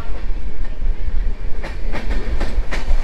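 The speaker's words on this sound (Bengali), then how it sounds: "আমাদের ট্রেন এখন ছাড়লো বর্ধমান থেকে" A train pulling out of Bardhaman station, with a loud, close rumble and a run of rhythmic wheel clacks over the rail joints building in the second half; no voices.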